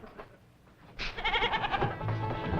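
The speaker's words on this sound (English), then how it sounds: "The old goat, sir." An old goat bleats close by in a rapid wavering, quavering call lasting over a second, preceded by a soft, faint background murmur.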